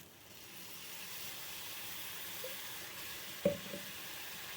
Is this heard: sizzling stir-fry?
yes